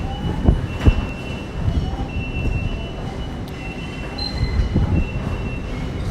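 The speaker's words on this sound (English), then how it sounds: "keep the camera rolling for this TfL rail service about to come in" A TfL Rail passenger train pulls into London Paddington station on the Great Western Main Line, a steady rumble of wheels on rails with brief squealing, continuous and fairly close, with no one speaking.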